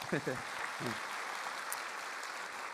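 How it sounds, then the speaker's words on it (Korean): Congregation applause during a church sermon on marriage: a brief voice at the start, then steady, sustained clapping fills the rest of the clip. "그럼 박수를 좀 크게 쳐드리겠습니다"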